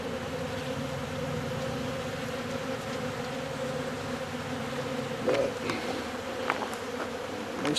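Wild honeybees buzz steadily and densely throughout as a colony is moved out of an old hickory log into a box, a continuous close drone with a few louder passes near the end.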